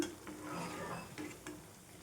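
Bottle gourd vadas frying in hot oil, giving a steady close sizzle with faint utensil scrapes and a couple of light clinks over about two seconds, no talking.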